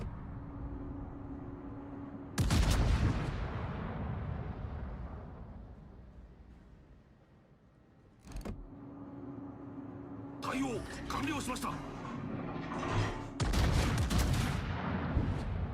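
Warship guns firing shells in a naval battle video game, heavy booming blasts in several separate bursts with rumbling tails, over a steady engine drone and with talk throughout.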